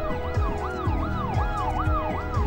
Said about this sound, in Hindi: आपको आवाज़ आ रही होगी पुलिस वैन की